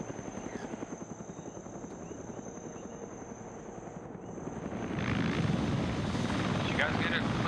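Steady rhythmic chopping of a Huey helicopter rotor in a video game throughout, growing louder and closer toward the end, with voices talking over it.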